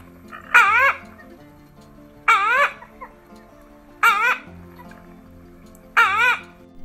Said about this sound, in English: Great blue heron.